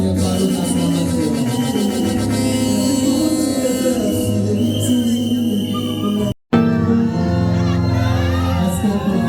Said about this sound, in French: Est-ce que nous pouvons les accompagner par nos acclamations?